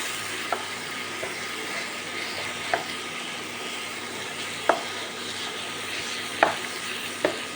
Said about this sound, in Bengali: এই আলুর পুরটা যদি কড়ায় একবার নেড়ে নেন তাহলে কিন্তু এর টেস্ট আরও ভালো হয়